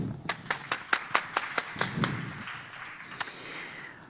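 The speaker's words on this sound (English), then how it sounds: "let's give one round of applause to all the collaborators and events this week" A single person or a few people clapping at an online architecture seminar, about ten distinct, evenly spaced claps followed by one late clap, fairly quiet against a faint background hum.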